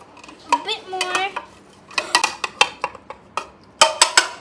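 A spoon scrapes and taps against a bowl while clearing off cornstarch slime, giving a run of sharp, close clicks and scrapes in irregular bursts with short pauses between them.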